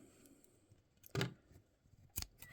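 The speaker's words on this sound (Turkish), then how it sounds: "Öncelikle bir makas yardımıyla" Scissors snip off the excess fishing line while a hook is being tied, giving two short, sharp cuts about a second apart over a quiet background.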